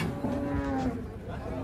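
A cow just unloaded from a truck gives a drawn-out, close, loud moo with a low droning tone, while people stand around it.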